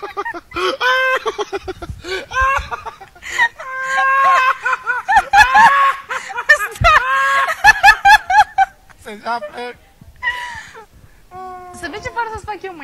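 A person imitates clucking hens with loud, rapid, high-pitched cackling vocal bursts that run almost continuously, mixed with laugh-like sounds.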